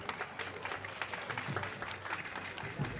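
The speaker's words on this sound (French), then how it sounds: "On peut toujours les applaudir, s'il vous plaît." Applause from an audience at a ceremony in Abidjan, a dense patter of many hands clapping at moderate distance, steady and fairly soft throughout.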